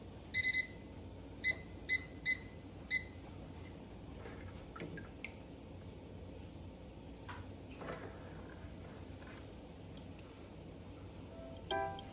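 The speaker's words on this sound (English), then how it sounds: "got to set my timer" A handful of quick electronic beeps near the start as a timer is set, followed by quiet kitchen background with faint clinks.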